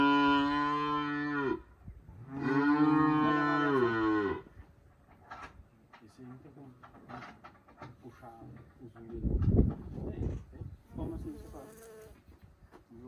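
Cattle mooing loudly on a farm in hot sun during an implant and pregnancy-check day, two long drawn-out lowing calls close by, then quieter farmyard noise with buzzing insects and flies around.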